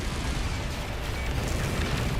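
A heavy missile explodes in a space combat video game, a dense, sustained roaring blast with a deep low rumble that fills the whole moment at steady loudness, with no voices over it.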